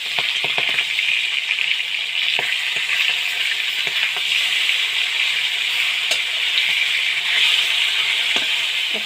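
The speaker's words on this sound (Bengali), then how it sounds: "মাছগুলো হালকা করে ভেজে নেব।" Fish sizzling steadily in hot oil in a home kitchen, with a constant crackling hiss and occasional sharper pops and spatters, close and fairly loud throughout with no talking.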